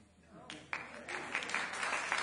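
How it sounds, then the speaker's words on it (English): Audience at a talk breaking into applause, starting quietly and building into a steady spread of clapping that sounds moderately distant. "It feels so nice being applauded for drinking."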